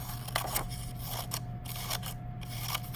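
Scissors make a run of close, crisp snips, cutting green paper into fringes for grass, with the cuts falling side by side over a constant faint electrical hum.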